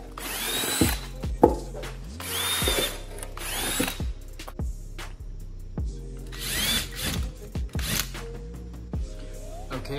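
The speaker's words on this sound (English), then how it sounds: "we're gonna have to drill some holes in these" A power drill bores holes in the parts of a car diffuser, the motor whirring in repeated short bursts with pauses between them, close and fairly loud, along with handling clatter.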